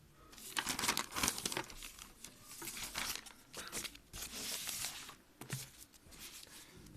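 Sheet of paper handled during a science lesson, crinkling and rustling in repeated bursts close to the microphone, with no voices heard.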